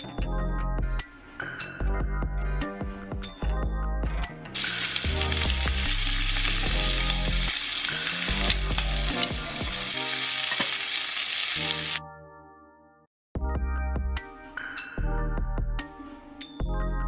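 Shrimp fry in a pan being cooked for cauliflower fried rice, a loud, steady sizzle with a few utensil clinks, set under continuous background music that briefly drops out.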